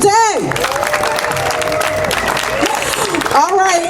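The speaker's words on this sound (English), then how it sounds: "let's clap it up for us being here today" Crowd applause with some cheering at an outdoor ribbon-cutting ceremony for The Yard on John Coltrane Street, loud and sustained, with speech and amplified voice at the start and end.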